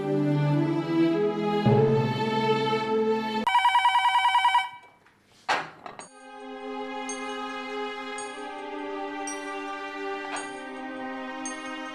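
A telephone rings in a domestic scene, with repeated electronic ringing tones in short regular bursts. A brief harsh buzzing section and a gap come before the ringing settles into a steady rhythm.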